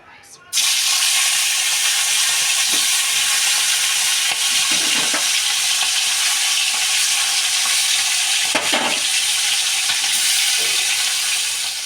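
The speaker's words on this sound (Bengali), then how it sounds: "তেল গরম হয়ে গেছে বন্ধুরা, দেখতে পাচ্ছেন। এবার এক একে মাছগুলো ভেজে নেব।" Hilsa fish hit hot mustard oil in a pan with a sudden loud sizzle that settles into a steady, close frying hiss with a few brief crackles.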